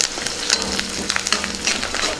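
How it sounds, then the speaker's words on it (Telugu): Curry leaves and dried red chillies crackle and sizzle steadily in hot oil for a tempering, a dense close-up frying hiss with small pops throughout and no talk. "పోపు బాగా వేగిందండి."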